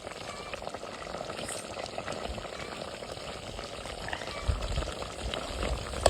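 A steady sizzle and bubbling of vegetable curry cooking in a hot pan, continuous and close, with a few louder pops and scrapes near the end.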